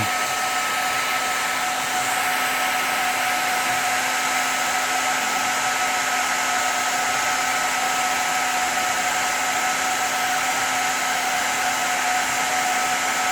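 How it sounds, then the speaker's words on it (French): A heat gun blows a steady, loud hot-air roar with a constant whine for plastic welding repair, melting two plastic pieces together, running continuously and alone throughout. "Donc il faut bien chauffer pour que les deux plastiques fondent et se soudent entre eux."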